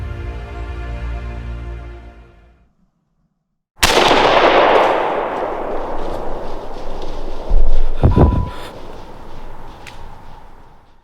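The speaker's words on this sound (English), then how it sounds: "I pull the trigger" A single loud, close rifle shot fired while deer hunting at the edge of a field cracks out after a brief silence, followed by a long rolling echo and a faint later knock.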